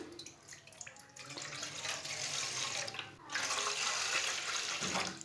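Two glasses of water are poured for a veg noodle recipe, giving a continuous splashing stream with a brief break midway before the second pour runs louder.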